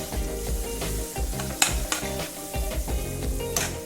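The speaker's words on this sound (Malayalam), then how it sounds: "എന്നിട്ട് നന്നായി ഇളക്കി കൊടുക്കാം." Crushed garlic and spices fry in a pan for a prawn ball curry, sizzling steadily up close while a utensil stirs and scrapes with a few sharper clinks.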